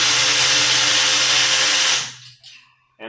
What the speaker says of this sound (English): We'll put the new ratchet to the test here and see exactly how well this thing's going to do removing these hex screws.